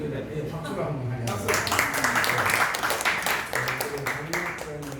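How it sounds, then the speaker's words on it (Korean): A congregation at a theological school's closing worship service breaks into applause for a student, a rising burst of clapping layered under an ongoing spoken voice. "우리 박수로 한번 하냐"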